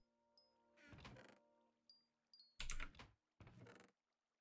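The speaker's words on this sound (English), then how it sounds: "I really like the clicky keys, but I don't like the sound because this microphone really picks them up" Clicky off-brand mechanical keyboard keys clatter in a few separate bursts of typing, each short flurry of sharp, close clicks broken by brief pauses.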